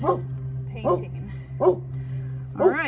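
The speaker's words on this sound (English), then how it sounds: "that's my dog barking" A dog barks four times at steady intervals, close by, over a constant low hum while a person talks during a fabric stencil painting session.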